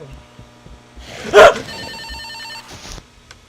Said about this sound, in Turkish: Benim telefon çalıyor.